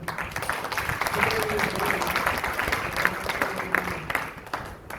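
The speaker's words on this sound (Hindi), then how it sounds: "एक बार आप अपने देवेंद्र बलारा जी को एक बार तालियों से एक बार स्वागत" An audience gives a welcoming round of applause for a speaker at a training gathering, dense clapping that continues steadily while a voice occasionally talks over it.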